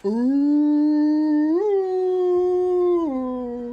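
A human voice imitates a wounded creature's howl, a loud sustained tonal wail that rises in pitch, holds, then drops, sounding dog-like.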